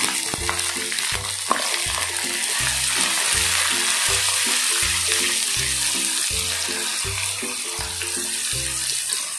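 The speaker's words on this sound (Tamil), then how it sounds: "நல்லா வதக்கிக்குவோம்." Chopped small onions sauté in hot oil in a pan for avaram flower soup, giving a steady loud sizzle with stirring, while a rhythmic tonal musical pattern plays underneath throughout.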